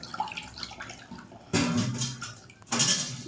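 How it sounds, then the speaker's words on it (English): Bitter kola nuts washed by hand in water, with splashing and sloshing that comes in two louder bursts over softer trickling, close by. "you carry this bitter kola and wash it very well"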